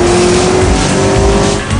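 Racing cars in the Need for Speed Most Wanted video game roar at close range while tires squeal steadily throughout, a loud, dense, continuous engine and skid sound with no voices.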